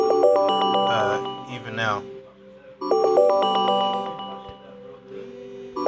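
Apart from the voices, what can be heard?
phone ringtone, incoming phone call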